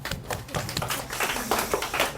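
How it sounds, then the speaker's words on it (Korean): Students in a middle school history class clap together, a dense burst of hand claps lasting a couple of seconds at steady, moderate loudness with no talking. "자, 박수 한번 쳐주세요."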